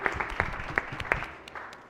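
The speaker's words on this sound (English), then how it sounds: "Colleagues, could you give them a round of applause, please?" Applause in the Maryland Senate gallery in Annapolis as legislators welcome visiting Frostburg students: a brief, fairly thin patter of clapping from a modest group that fades away within seconds.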